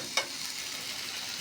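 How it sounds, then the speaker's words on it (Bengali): Chicken and sweet pumpkin curry is stirred and fried in a pan. A single spatula scrape cuts through a steady, close sizzle in this brief moment. "নেড়ে চেড়ে ভেজে দেবো।"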